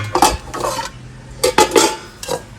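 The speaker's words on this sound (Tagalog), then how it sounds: "Etong kawali, lagay mo rin sa initan." A metal frying pan (kawali) handled and set down outdoors in the sun, several close, loud metallic clanks and scrapes in quick bursts, with brief pauses between.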